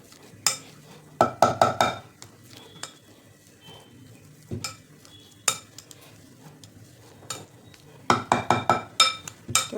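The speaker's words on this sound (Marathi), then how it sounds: "तर आता हे उकडलेले रताळे स्मॅश करून घ्यायचे." Boiled sweet potatoes being mashed in a pot, clinking and scraping in short clustered bursts with quiet gaps between them.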